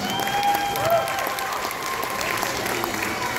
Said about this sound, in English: Big round of applause for Group 6.